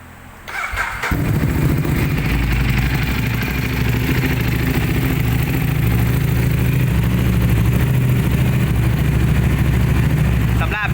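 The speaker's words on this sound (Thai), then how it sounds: "เดี๋ยวผมจะพาไปฟังเสียงเครื่อง ไฮเปอร์โมตาคันนี้จะเป็นยังไงบ้างไปฟังกัน" A 2015 Ducati Hypermotard 821 motorcycle engine starts up and settles into a steady, throbbing idle close by, loud and continuous throughout.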